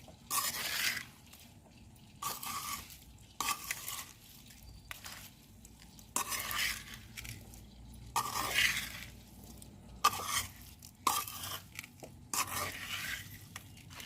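Small amla gooseberries being mixed into pickle in a pot over a wood-fired stove on a rooftop terrace garden: repeated scraping and stirring strokes in irregular bursts, close and fairly quiet, with brief pauses between them.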